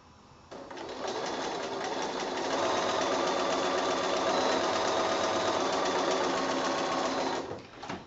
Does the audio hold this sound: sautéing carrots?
no